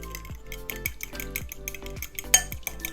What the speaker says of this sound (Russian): Теперь перемешиваем.